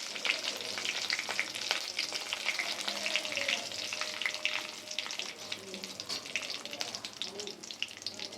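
Curry leaves sizzle and crackle in hot oil on a low flame, a soft, continuous frying hiss with scattered pops that carries steadily throughout.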